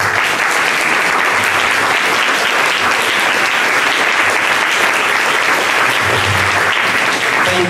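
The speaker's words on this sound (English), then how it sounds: "Please stand and let's give them a round of applause." A seated audience at a state legislative caucus briefing breaks into loud, sustained applause, a steady dense wash of clapping that fills the whole stretch without letting up.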